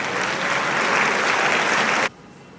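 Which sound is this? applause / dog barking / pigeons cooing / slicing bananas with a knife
applause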